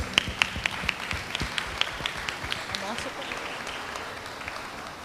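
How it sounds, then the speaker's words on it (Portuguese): Audience applause at a Brazilian event's closing plenary session, a scattered mix of claps with some sharper isolated hand strikes, moderate in level and steady throughout, with voices murmuring underneath. "Uma salva de palmas, por favor."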